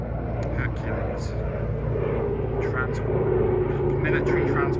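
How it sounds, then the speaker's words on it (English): A Hercules military transport plane flying overhead gives a low, continuous engine drone and rumble that swells slightly toward the end, heard beneath someone talking close by. "Military transport plane, I believe."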